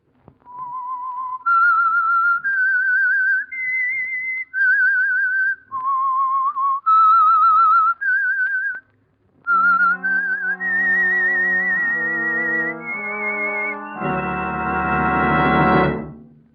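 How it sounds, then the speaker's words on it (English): A lone whistler carries the theme melody of the radio mystery show The Whistler in clear sustained notes, ending as an orchestral chord swells in underneath. "That whistle is your signal for the Signal Oil Program, The Whistler."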